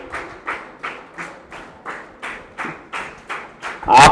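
An audience at a Farmers Day celebration at a cow shelter claps in a slow, steady rhythm, about eight loud evenly spaced claps, ending in a louder burst.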